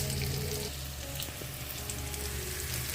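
Onions frying in a pan for biryani gravy, a steady dense sizzle with crackling pops throughout, close and fairly loud with no talking.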